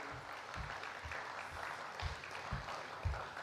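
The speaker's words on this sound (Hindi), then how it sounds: "बड़े ही तालियों के साथ हम आपका वेलकम कर रहे हैं" An audience welcomes a speaker at a youth wing talk with a continuous patter of applause, fairly soft and distant-sounding, steady across the whole stretch without any voices over it.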